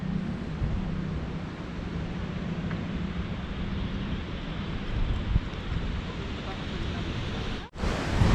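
Steady wind rushes past the microphone at Buhay Forest in a continuous broadband roar, briefly cut by a sharp dropout near the end.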